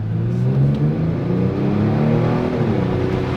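Kia Stinger 3.3-liter twin-turbo V6 engine pulling with a smooth rising hum and faint turbo whir, steady and fairly loud from inside the car, no voices.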